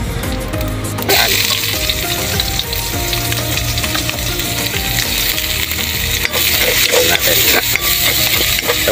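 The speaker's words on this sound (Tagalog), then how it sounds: "So dito na rin tayo magigisa guys ng ating bawang at sibuyas." Garlic and onion sauté in a pan for pork belly adobo, a steady loud sizzle with scraping stir strokes and occasional clinks of a utensil against the metal, with no talk.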